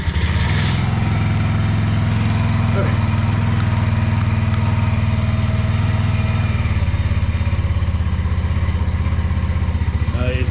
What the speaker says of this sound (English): Maybe we need to actually turn the bike on.